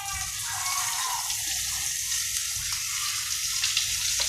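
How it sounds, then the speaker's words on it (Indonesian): Ground spice paste for tekwan fish-soup broth frying in a little oil, giving a steady, close hiss and sizzle that holds even and unbroken throughout, with no talking. "Ditumis sedikit-sedikit saja. Pakai minyak."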